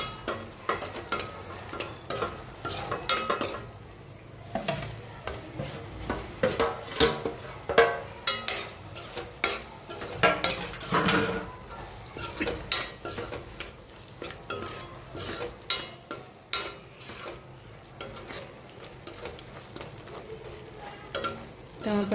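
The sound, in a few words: stirring paneer and cheese into gotalo sabzi in a pan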